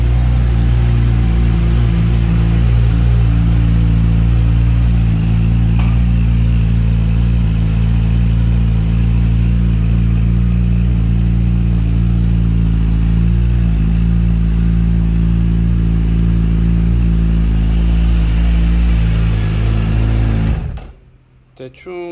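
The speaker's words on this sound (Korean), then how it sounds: "배기 사운드 한번 들어볼게요" A Kawasaki Hayabusa motorcycle with a Yoshimura titanium exhaust idles loud and steady with a deep, throaty exhaust rumble for a long stretch, then cuts off abruptly near the end.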